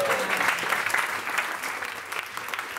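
Dense applause from a celebrating crowd honouring a folk actor, steady rapid clapping at moderate level that fades slightly toward the end.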